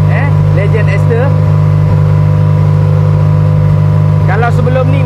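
A car engine runs steadily and loudly at close range throughout an oil heat test after switching to Legend Ester engine oil, with a constant low drone and brief revving swells near the start and end.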